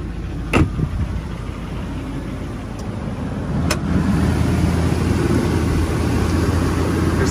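A 2003 GMC Sierra 2500HD pickup's 8.1-liter V8 idles steadily with a low, even rumble, close by; a couple of sharp clicks or knocks punctuate it and the idle grows slightly louder partway through.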